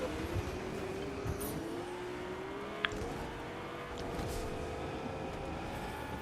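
A car drifting in the video game Fortnite produces a continuous engine drone with a wavering tire-skid tone, fairly quiet and steady, with a brief sharp tick partway through.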